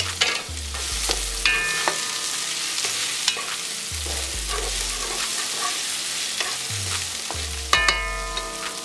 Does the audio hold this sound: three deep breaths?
no